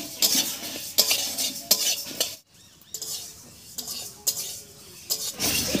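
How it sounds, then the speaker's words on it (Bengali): Mung dal dry-roasted and stirred in a wok: a utensil scrapes and clinks against the metal in a steady series of strokes, with a brief pause near the middle. "এবারে শুকনো খোলায় মুগ ডালটা ভেজে নিচ্ছি।"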